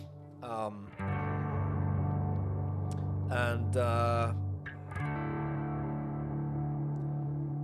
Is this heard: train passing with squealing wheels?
no